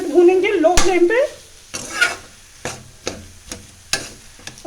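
Potato and pea paratha filling is pressed and roasted in a pan over low flame, with intermittent scraping and tapping strokes of a spoon against the pan over a faint sizzle, plus a brief tonal sound early on.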